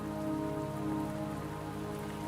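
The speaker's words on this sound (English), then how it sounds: "the rain won't last much longer" Steady rain falls in the Wuthering Waves game, a constant even patter of drops hitting surfaces with no voices.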